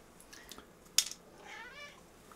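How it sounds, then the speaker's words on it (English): A kitten gives a short, faint meow, then a longer wavering one, alone and close in a quiet room. "Okay, we're loading up kittens."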